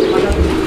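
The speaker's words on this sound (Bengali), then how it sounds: "এই কবুতরটা এটা কি নর নাকি মাদি কবুতর?" A female Iranian pigeon, cream-coloured, gives a short low coo, close and fairly loud, heard alone for under a second.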